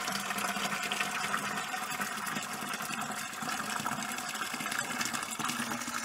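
Water pours steadily into a wine fermenter to rinse it, a continuous rushing, splashing flow with a mechanical hum beneath it and no voices.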